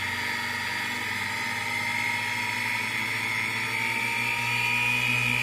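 Stepper motor generator driven from a variac power supply, a continuous high-pitched electrical whine over a low motor hum, steady and moderately loud, rising slightly in pitch toward the end.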